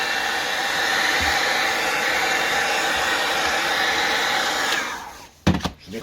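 A heat gun warms the engine block casing of a Peugeot Booster moped, blowing a loud, steady, whooshing drone for about five seconds before it cuts off, followed by a few sharp clunks and knocks.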